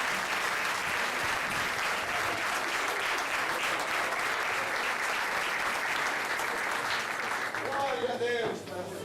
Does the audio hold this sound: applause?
yes